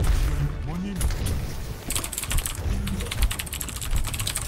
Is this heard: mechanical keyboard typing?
yes